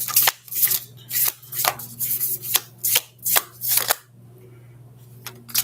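Tarot cards are shuffled in a series of crisp riffling bursts, about eight quick close rasps in a rhythmic run, then a pause with soft room hum and a final short shuffle.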